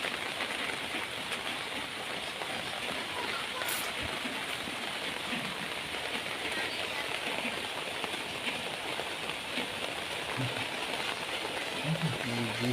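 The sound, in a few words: heavy rain falling in Agartala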